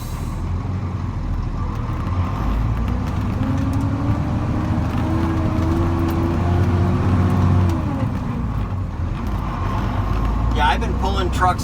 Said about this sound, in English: Comes a couple more cars.